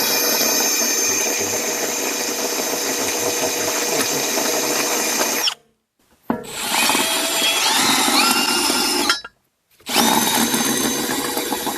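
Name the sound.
hole saw cutting off a stuck lug nut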